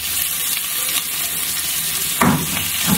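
Tomatoes sauté in a pan for a vallarai keerai chutney, giving a close, steady sizzle with a louder spatula stir and scrape near the end, and no voices.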